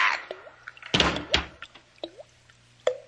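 Slow water drips from a faucet, staged as a radio drama sound effect, land as a few sharp, separate plinks at irregular intervals between two louder thuds, close and isolated with no voices.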